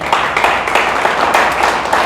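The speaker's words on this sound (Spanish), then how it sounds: "¿Le damos un fuerte aplauso a Dios?" A church congregation applauding, dense continuous clapping at a steady level with no talk over it.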